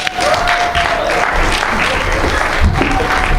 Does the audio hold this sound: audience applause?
yes